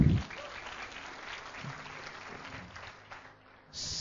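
Audience applause fills a large event at Senayan with about 100,000 people attending, a steady wash of clapping from a big crowd that swells again near the end.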